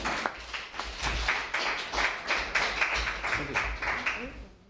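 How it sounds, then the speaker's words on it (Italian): Audience at a local gathering clapping to welcome a speaker, a moderate patter of hands running throughout with voices talking over it. "Accogliamolo con un applauso, Damiano."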